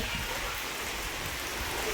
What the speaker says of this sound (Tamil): மழை அடிக்குது, எப்படி வீடியோ எடுக்க போகிறோன்னே தெரியல.